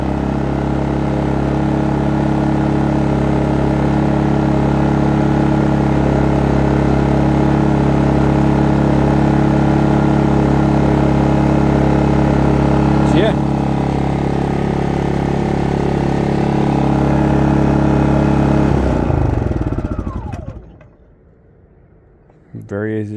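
A Maxpeedingrods MXR 3500 watt inverter generator runs at a loud, steady, droning pitch for about nineteen seconds, then shuts down and winds off into near silence.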